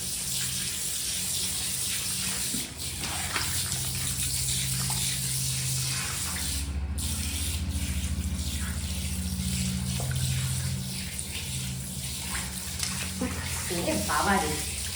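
Running tap water splashes steadily while Mango the cat is bathed, a close continuous wash with some lighter sloshing and handling noises; voices talk softly over it at times.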